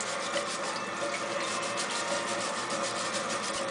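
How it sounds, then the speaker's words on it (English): Potatoes scrubbed by hand to get the dirt off, a close, steady brushing and rubbing with faint watery sounds running throughout. "you want to make sure you scrub off all the dirt, but not all the skin"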